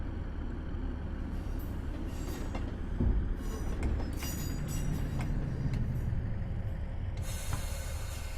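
A Class 156 diesel multiple unit in Train Simulator 2016 runs with a continuous dense rumble and rolling rail noise, steady and loud throughout, with occasional clanks and brighter hissing bursts.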